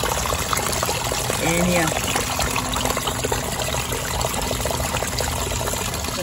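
Water trickles and pours steadily while a garden pond filter is cleaned out, a continuous wet wash throughout with a person speaking briefly over it.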